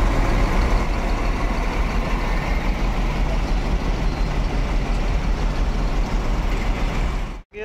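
A Scania K410 bus engine idling at a bus terminal, a loud, steady low diesel rumble held constantly throughout before cutting off abruptly at the very end.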